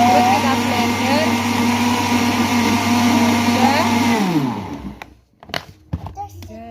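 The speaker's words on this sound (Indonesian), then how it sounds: "tadi sudah dikasih es batu, terus kita blender" Blender whirring through a dragon fruit shake with ice cubes, a loud steady motor drone that winds down after about four seconds, followed by brief clatter and faint voices.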